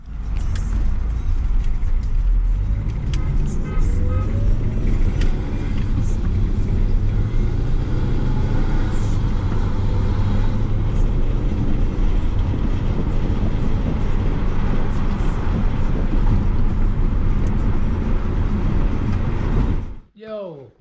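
Steady low rumble of a second-generation Mitsubishi Eclipse driving along a road, continuous and loud throughout, ending abruptly with a brief clatter.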